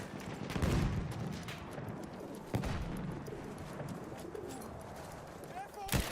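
Gunfire and pigeon cooing in the Battlefield 1 video game, with dense battle noise throughout and a few sharp shot transients standing out near and far.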